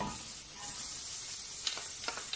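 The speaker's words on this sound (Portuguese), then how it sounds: "vou abaixar um pouco o fogo e eu jogo a cebola agora" Onion frying in a pan over lowered heat, a quiet steady sizzle broken by a few light clinks and scrapes of stirring near the end.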